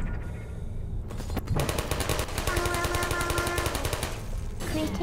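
Sustained rapid turret gunfire in Portal rattles steadily for several seconds inside a test chamber, loud and continuous, with brief pauses at the start and end.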